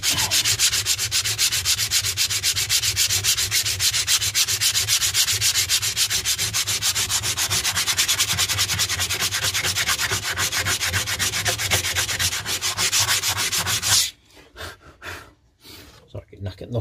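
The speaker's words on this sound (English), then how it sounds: "The sanding really for this section, just to get this perfect and ready for primer area" Body filler on a car panel is sanded by hand in fast, steady back-and-forth strokes that run continuously, then stop near the end, leaving faint scattered handling sounds and breathing.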